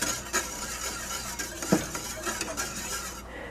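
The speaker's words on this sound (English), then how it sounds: "Okay, stir a little bit." Cooled milk is stirred by hand for homemade yogurt, giving soft scraping strokes of a utensil against a pot, with a few light clinks, fairly quiet with no talking.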